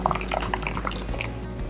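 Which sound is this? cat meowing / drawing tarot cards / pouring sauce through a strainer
pouring sauce through a strainer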